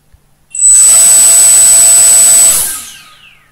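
A hexacopter drone motor spins up during a Mission Planner motor test at 70% throttle, giving a loud, steady high-pitched whine for about two seconds that then winds down, with no voices.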